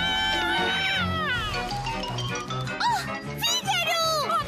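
An animated kitten meows repeatedly in a cartoon scene at a water park, with bright, wavering cries over background music and a voice.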